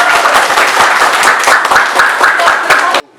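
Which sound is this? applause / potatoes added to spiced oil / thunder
applause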